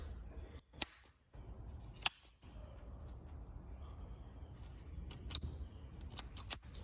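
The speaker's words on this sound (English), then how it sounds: "get a pair of scissors and cut off these little stray strands here." Scissors snip stray strands off a braided hose for an AN6 fitting, giving a few sharp, quiet close-up clicks spaced a second or so apart against a faint background hum.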